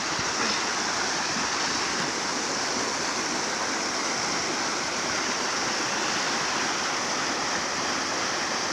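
Water rushes continuously in a steady, broad roar, like a stream pouring over rocks, with no voices or other sounds.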